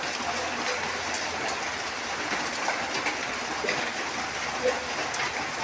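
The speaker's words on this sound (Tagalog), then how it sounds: "Maulan ngayon dito sa Brooks Point, sa Palawan." Steady rain pours down at Brooks Point in Palawan, a continuous even hiss of falling water with no breaks and no one talking.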